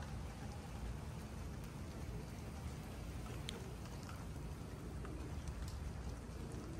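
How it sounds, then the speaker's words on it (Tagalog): Sudden rain falling outdoors during a pigeon race, a steady broadband hiss of drops that stays even and fairly close for the whole stretch, with no voices. "Tapos biglang umulan."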